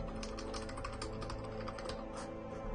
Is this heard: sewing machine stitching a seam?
no